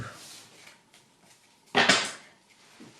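A tarot deck being cut, a brief rustling shuffle of cards near the end after a quiet stretch, close and soft, with faint background noise.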